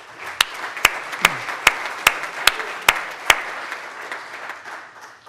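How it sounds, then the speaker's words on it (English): Applause for volunteers at a meeting: a crowd claps steadily, with about eight sharp, evenly spaced loud claps near the front, then the clapping thins out and fades. "Let's give them a round of applause."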